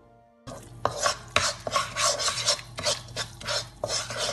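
Tikhur being lightly dry-roasted in a pan, a steady scraping and rubbing of a spatula across the metal in irregular strokes, close and moderately loud, with no voices.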